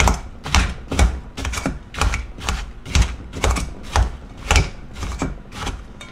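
Apple slices being diced with a biscuit cutter on a board, a series of about a dozen sharp, evenly spaced chopping thuds with crisp clacks, close and loud, no talking.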